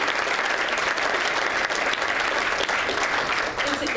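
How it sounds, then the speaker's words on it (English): Dense, sustained applause from a meeting audience thanking its speakers, a steady wash of many hands clapping close and loud throughout. "big round of applause for our speakers"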